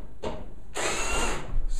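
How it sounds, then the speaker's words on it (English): A drill on low speed and low torque removes screws from a Kenmore 80 Series electric dryer in short whirring bursts, a brief spin followed by a longer steady whir, close by. "I have the drill on low speed."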